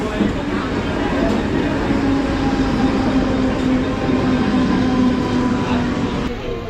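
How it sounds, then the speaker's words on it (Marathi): A Mumbai local commuter train rumbles steadily alongside a platform at Chhatrapati Shivaji Maharaj Terminus, wheels clattering on the rails under a continuous loud hum, with faint voices in the background. "आपली लोकल ट्रेन आलेली आहे इथे"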